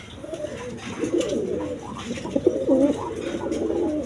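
Satin pigeons, including a black pair, give low, throaty cooing at close range, with rolling coos repeating steadily and swelling in a few stronger calls.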